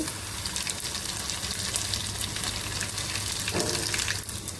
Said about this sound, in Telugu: ఇట్లా రెడ్ కలర్ వచ్చే వరకు వేపుకోవాలండి ముల్లంగి ముక్కలు